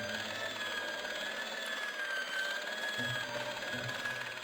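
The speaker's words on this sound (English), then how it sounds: "It was an industrial polishing machine with an odd-looking guy in tow." An industrial polishing machine in the Broken Sword video game gives off a steady, droning mechanical whine with a high sustained tone and low rumble, continuous throughout.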